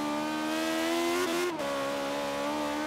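A BMW i8 fitted with a V8 engine in the racing game Forza Horizon 3, roaring steadily at high revs with a brief dip around a gear change, then holding a sustained loud drone.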